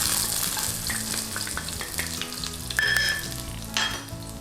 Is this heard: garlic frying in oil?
yes